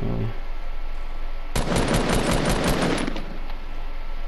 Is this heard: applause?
no